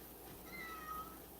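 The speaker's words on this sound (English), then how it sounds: "Hang on, I gotta go deal with this cat." A house cat gives a short, thin meow at moderate distance over a steady background hum, with no talking.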